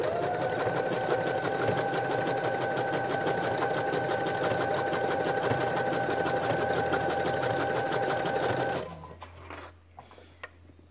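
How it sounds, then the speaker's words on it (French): A sewing machine stitching bias binding onto a baby's top runs in a fast, steady mechanical whir for about nine seconds, then stops, leaving faint handling noises and a low background hum. "Et donc, on va venir coudre."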